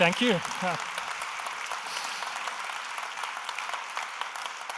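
Keynote audience applauding at a business conference, a dense wash of clapping that starts with a brief spoken voice and then holds steady for several seconds.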